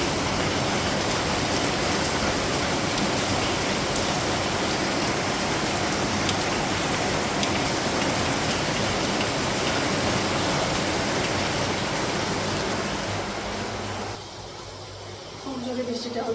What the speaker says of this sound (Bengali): খুব জোরে বৃষ্টিটা হচ্ছে